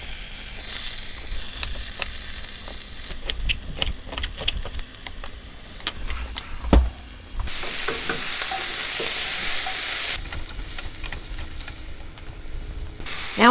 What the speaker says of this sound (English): start with sauteing the stems first because they're a little bit more tough